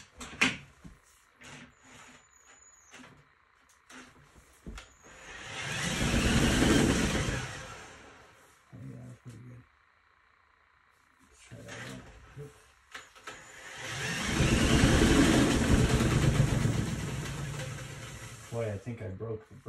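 A power drill spins an acrylic spin-art painting in two long whirring bursts that swell up and then wind back down, separated by quieter stretches of clatter and handling noise.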